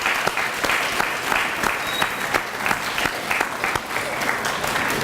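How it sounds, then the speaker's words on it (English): Steady, dense audience applause at a middle school Memorial Day ceremony, honoring the school band, continuous clapping from a nearby crowd with no speech. "let's have a nice round of applause for our band."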